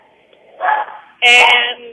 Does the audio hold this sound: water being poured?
no